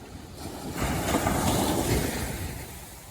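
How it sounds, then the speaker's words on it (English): Ocean waves wash against the shore on a morning beach, a broad rushing surge that swells and fades over a few seconds, mixed with wind noise and no talk. "The waves lapping at the shore."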